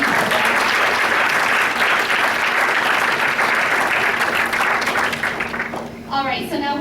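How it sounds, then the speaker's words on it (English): Loud, sustained applause from an audience at a bootcamp event honouring Barbara, dense and even before tapering off near the end, with a voice speaking as it fades. "please help me in giving Barbara one more round of applause"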